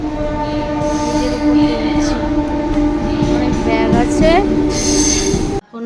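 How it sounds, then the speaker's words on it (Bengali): A train rumbles past nearby with steady wheel noise and high metallic squeals rising and falling, ending abruptly. "ট্রেন যাচ্ছে"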